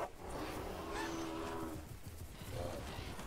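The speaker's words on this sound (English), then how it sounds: "Screw you, angry chickens." Angry chickens in the Path of Titans dinosaur game let out honking, squawking calls at low level, a couple of brief cries over a rumbling background.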